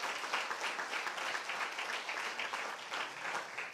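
A church congregation applauds during a sermon, a dense, steady wash of many hands clapping together, continuous and moderately distant, with no speech over it.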